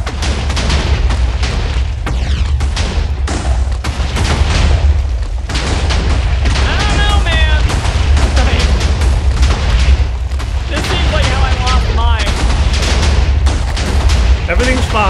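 Dense, continuous explosions rumble and crack in the Minecraft modpack Forgecraft 2, a steady barrage of booms and blasts throughout, with voices talking over the chaos.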